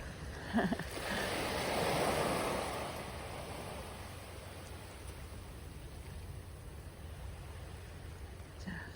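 Sea waves roll in at the Marshall Islands in the Pacific, one soft surge of surf rising and fading early on, then a steady, quiet wash of water.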